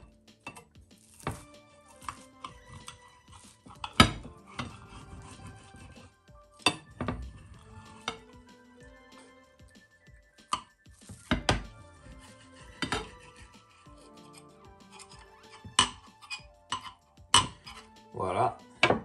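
Metal cutlery scraping and clinking against a plate while a piece of vegetarian omelette is cut, scattered sharp clicks and taps spread over about nineteen seconds with quiet gaps between them.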